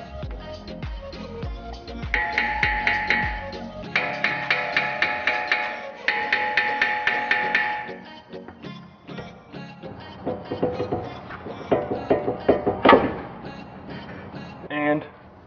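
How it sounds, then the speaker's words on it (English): Repeated sharp metallic hammer strikes on a Mercedes C63 AMG brake rotor in quick rhythmic bursts, ringing off metal, with pauses between volleys and a few heavier single blows. "You may have to hit it with a hammer."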